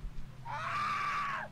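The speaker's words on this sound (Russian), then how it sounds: "Ну я вот крик сейчас только услышал." Inside the horror video game The Survey, a faint, drawn-out scream rises and holds for about a second before trailing off, heard alone against a low background hum.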